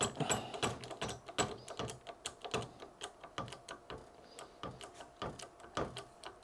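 A ratchet tightens a fitting on a 95mm DC cable for a 15 kW setup, giving quick, rhythmic metallic clicks in repeated strokes, close and crisp, with no speech.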